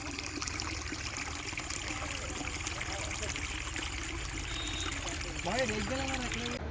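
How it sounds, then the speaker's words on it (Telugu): Water runs steadily through a village irrigation canal in the evening, a continuous soft trickling wash beside rice fields, with a voice talking briefly toward the end. "ఈవినింగ్ టైంలో ఈ వాటర్ సౌండ్ వింటుంటే ఎంత కూల్గా అనిపించిందో"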